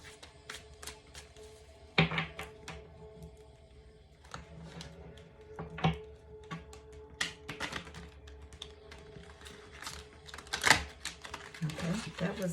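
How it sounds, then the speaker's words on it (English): Quick clustered flicks and taps of tarot cards being shuffled messily, irregular and close, with brief pauses between bursts and a little faint voice in the background. "that was a messy shuffle"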